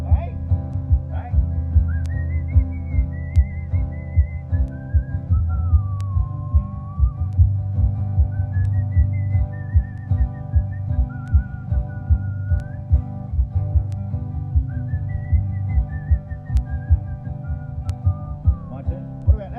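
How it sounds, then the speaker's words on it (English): One person whistles a melodic solo alone over a steady, rhythmic backing of music, the tune rising and falling in long phrases. "What about that for a whistling solo?"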